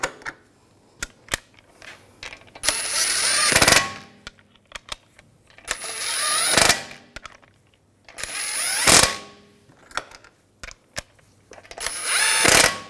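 An impact or power tool snugs down the wheel lug bolts on a 2007-2013 BMW 328i, four separate whirring bursts of about a second each, close up, with clicks and handling noises between them.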